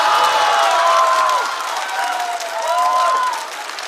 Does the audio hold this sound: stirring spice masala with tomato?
no